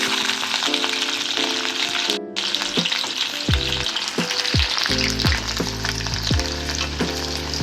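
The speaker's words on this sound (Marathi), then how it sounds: "आता अद्रक आणि लसूण घेतलेली अशी बारीक चिरून आपण आता फोडणी देऊया" Finely chopped ginger and garlic hit hot oil for a chicken rassa tempering, giving a loud, steady close-up sizzle with rhythmic clinks and scrapes of a spoon stirring throughout.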